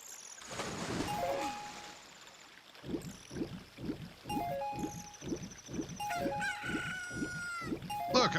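A newly hatched cucco chick in Zelda: Ocarina of Time crows, a rising jingle followed by a rapid run of about ten evenly spaced, close clucking crow notes with chiming game sounds on top.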